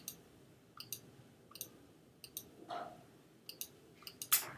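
Sharp, sparse clicks sound close and quiet, spaced irregularly like a mouse button being pressed against a soft background hiss.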